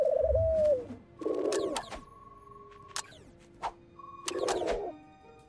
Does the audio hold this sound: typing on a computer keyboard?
no